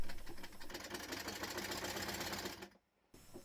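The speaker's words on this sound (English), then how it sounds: "This is the awful running video from before it was quartered and the axle boxes were fixed" A Rob Roy 3 1/2 inch gauge model steam locomotive running badly with poorly quartered wheels and worn axle boxes, giving a fast, uneven mechanical clatter and chuff. The noise stops abruptly near the end, then resumes faintly.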